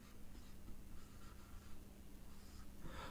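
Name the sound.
writing on a board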